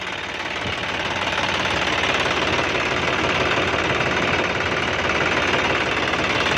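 A John Deere 5065E tractor with a small turbocharged three-cylinder engine runs nearby, a loud, steady knocking diesel clatter that holds constant throughout.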